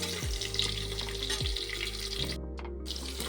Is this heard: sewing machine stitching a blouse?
no